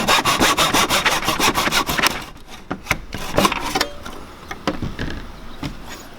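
A handsaw cutting through a wooden dowel held in a miter box, rapid rhythmic back-and-forth strokes up close, then slowing into a few scattered scrapes and knocks as the cut finishes.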